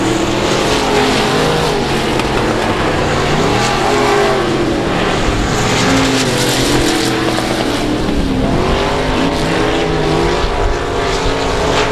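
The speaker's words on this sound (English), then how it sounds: "We got two cars fighting hard for it. 11 car, number 33 car." Race cars battle wheel to wheel on the oval at South Texas Speedway, their engines roaring loud and continuous, rising and falling as they pass close by.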